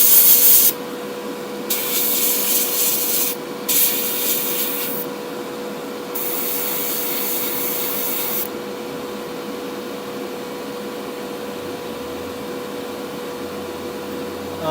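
Acrylic paint sprayed from an airbrush or spray gun inside a spray booth, several hissing bursts of a few seconds each over a steady extraction fan hum and a constant tone.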